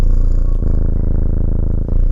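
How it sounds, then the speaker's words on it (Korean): A cat purrs continuously and loudly up close, a steady low rumbling drone with a brief dip near the end and no voices. "오늘 신비한 고양이 사전의 주제는 바로 고양이의 골골송입니다."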